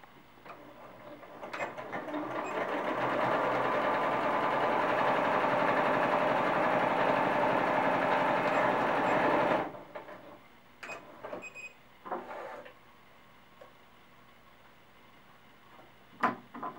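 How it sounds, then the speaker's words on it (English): A sewing machine whirs steadily for several seconds, stitching cloth doll fabric pieces together at a 1/4 inch seam allowance, then stops abruptly, leaving a few light clicks and handling noises. "I'm going to stitch those together"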